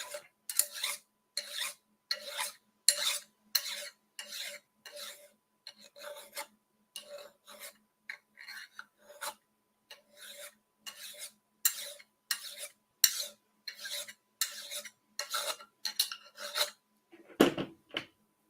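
Steady rhythmic rasping of a metal file on an HO model railway turnout, about two dozen evenly spaced strokes close up, then a brief louder clatter at the end, with no talk.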